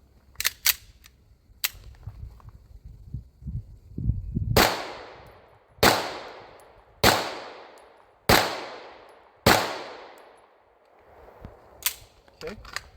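Winchester Silver Tip 147 grain jacketed hollow point rounds fired from a handgun, five sharp loud reports at roughly one-second intervals, each ringing out with a decaying echo, with lighter clicks and handling noise around them.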